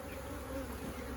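Honey bees from an aggressive colony with a new queen buzz in a continuous, dense, close drone that holds steady through the short moment.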